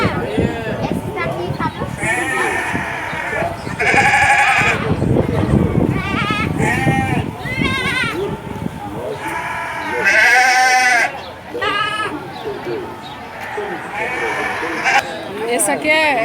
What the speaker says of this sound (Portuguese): Bonitos animais. São carneiros.